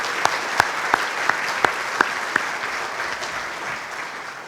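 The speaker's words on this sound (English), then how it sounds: "Please join me in giving all these individuals a round of applause." An audience at a scholarship dinner applauds, a steady wash of clapping from a room full of people, with a few sharper nearby claps standing out early on before it settles.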